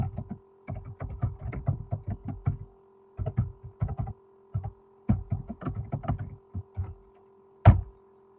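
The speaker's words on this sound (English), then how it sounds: "I'm going to type the question in the chat" Typing on a computer keyboard in a recorded online meeting, heard as bursts of close, clicky keystrokes separated by short pauses, ending with a single louder key thump, with no talking.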